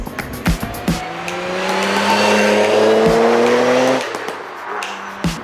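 A Nissan R33 GTR V Spec engine revs up with rising, stepped gear whines through a 5-speed Nagayo Tech close-ratio gearbox, loud and close, peaking then dropping off, with sharp clicks and pops around it.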